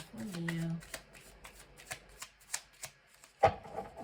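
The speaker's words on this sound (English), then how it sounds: "I'll do one last shuffle here, Leo." Cards are shuffled in quick riffles and taps, a series of crisp bursts, with a voice speaking briefly at the start.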